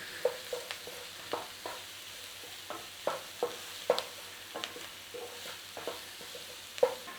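Chopped onion, garlic and dried thyme are stirred in a frying pan for a beef and cheese pie filling, giving a soft, low sizzle broken by a string of sharp spoon scrapes and taps against the pan, with no voices.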